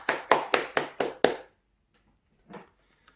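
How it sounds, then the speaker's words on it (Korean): A small church congregation at a Sunday service claps together in six sharp, evenly spaced hand claps, then falls silent apart from one faint soft sound a moment later. "박수로 하나님께 영광 돌리겠습니다"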